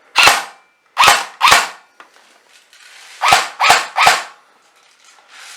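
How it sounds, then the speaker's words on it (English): A Golden Eagle 6669 airsoft AEG light machine gun fires single semi-auto shots, six sharp cracks in two uneven bursts of three, loud and close with no talking. "Make sure I got it in semi, and I'll just shoot it over here."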